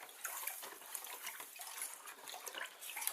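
Liquid is added slowly to melted sugar in a pan during home wine making, heard as a faint, hissy, uneven trickle and sizzle with scattered small clicks, no voices.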